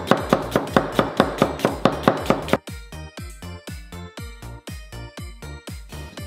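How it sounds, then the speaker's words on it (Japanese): Rapid, steady knife strokes thinly slice an onion on a cutting board, a run of crisp, evenly spaced chops close by that turn slightly softer and lower partway through, with no talking. "玉ねぎは薄めにね、薄くねスライスします。"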